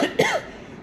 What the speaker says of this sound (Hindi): खांसी क्यों आ रही है?